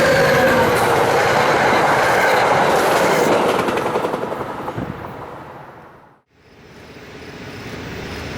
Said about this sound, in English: Now we see the southbound return of that train set running as train